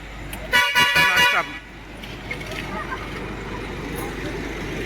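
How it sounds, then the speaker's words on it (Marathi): A bus horn near at hand gives several quick honks in a row, then stops, leaving steady background noise and a low rumble of traffic. The bus is hired to carry villagers from Kandivali in Mumbai to Parpoli for Ganpati. "गाडी हॉर्न दिल्यान गाडीवाला बोलवता"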